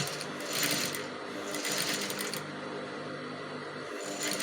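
A sewing machine hems the folded edge of a swimsuit, stitching in rapid whirring bursts that pause and restart, close and clear with no talk.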